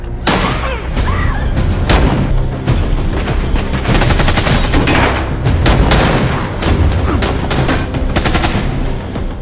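Loud film shootout between a cartel gang and a former special-forces marine, with dense rapid gunfire, bursts and booms layered continuously throughout, close and intense.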